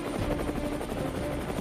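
An Indian Air Force helicopter flies over a remote drop zone in Arunachal Pradesh, its steady rotor chop and engine roar filling the air continuously at close range with no voices.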